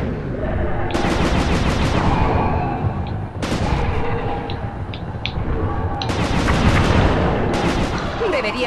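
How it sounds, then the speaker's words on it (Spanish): A shootout in the video game Sly 2 brings repeated bursts of loud, close gunfire, clustered volleys that start and stop abruptly over a busy background, with occasional brief voices. "Ese tiroteo ha sido LOL"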